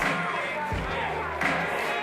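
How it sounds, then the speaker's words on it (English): Steady crowd din from an awards show audience, applause and cheering filling the room, with a few low thumps and a faint voice underneath. "Please hold your applause"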